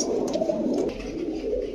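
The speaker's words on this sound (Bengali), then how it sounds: "দর্শক, কবুতরগুলো দেখেন, আগে দেখেন।" Several pigeons, including Sahranpuri types at a pigeon market, coo softly in a low steady murmur that runs through the short stretch, with faint higher bird calls over it.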